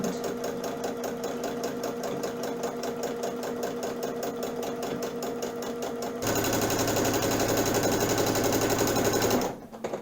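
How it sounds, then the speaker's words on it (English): A sewing machine stitches lines through thick fabric in a steady, fast needle rhythm, close and continuous, shifting to a denser tone partway before stopping near the end. "just keep on working and go and sew all the lines"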